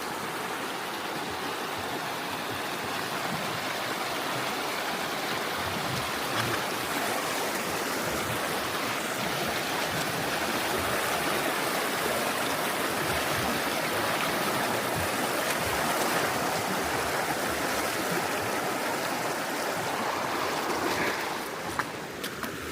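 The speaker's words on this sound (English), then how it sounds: "Our first water crossing." Hikers wade across a cold stream on the Pacific Crest Trail, the water rushing and splashing loudly and steadily throughout, with no talk.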